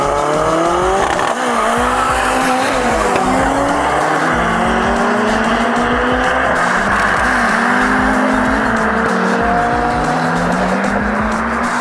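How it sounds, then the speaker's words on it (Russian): Two Toyota cars racing, engines loud and close as they rev through rising and falling gear changes together, with tire noise and a continuous roar throughout. "Две Тойоты едут."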